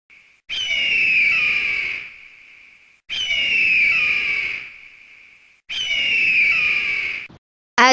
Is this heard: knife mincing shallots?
no